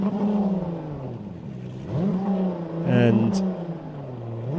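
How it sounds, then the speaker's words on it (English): XCAT racing catamaran engines rev at a Kuwait Grand Prix powerboat race, rising and falling in repeated surges beneath a commentator's continuous talk. "we have revving Xcats out there at the moment"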